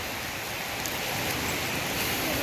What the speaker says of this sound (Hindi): पूरा बारिश गिर रहा है